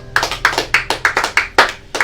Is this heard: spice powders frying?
no